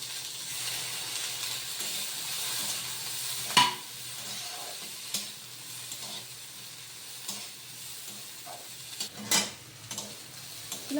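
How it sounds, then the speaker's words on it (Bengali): Chopped onions frying in a pan for a home-style chicken stew, a steady sizzle with intermittent scraping stirs and clinks of the utensil against the pan, close and moderately loud. "এবার পেঁয়াজ কুচিটা দিয়ে দিলাম।"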